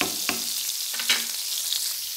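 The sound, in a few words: butter and margarine melting and sizzling in a pan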